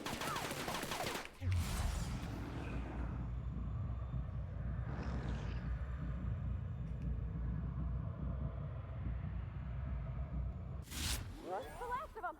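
Gunshots in The Outer Worlds, a sharp close shot followed by a long rumbling stretch of distant firing and ambient game noise, with brief talk at the start and end.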